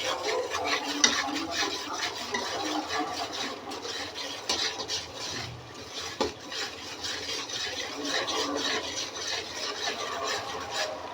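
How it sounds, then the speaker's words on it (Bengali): Chilli and turmeric being stirred and sautéed in a pot for khichuri, a steady scraping and sizzling texture with small clinks of the spoon against the metal, continuous and close with no talking. "দিয়ে দিচ্ছি মরিচ, দিতেছি হলুদ। এটাকে ভালো করে কষাতে হবে।"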